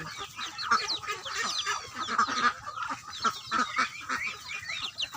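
Ducks and chickens clamour at feeding time on a small farm, a dense, continuous overlapping chorus of clucks, squawks and quacks, loud and close, with no talking.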